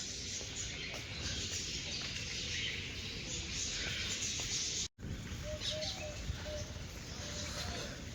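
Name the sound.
birds chirping outdoors near a library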